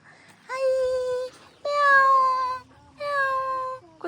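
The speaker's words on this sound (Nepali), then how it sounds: "काली बिरालो।" A black cat meows three times near a village by a forest, each call drawn out and clear at close range with short quiet gaps between them.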